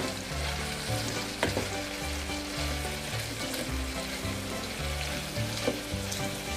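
Bean soup ingredients cooking in a pan give off a constant crackling sizzle, steady and close, with a low rhythmic hum underneath and a few faint clinks.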